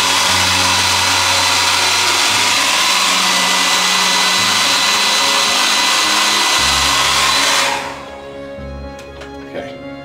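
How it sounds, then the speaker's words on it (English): A cheap thrift-shop hair dryer blows loudly and steadily up close while a patch is layered on a model freight car, then cuts off near the end, leaving a quieter low hum with faint handling noises. "And what I do is I blow dry it"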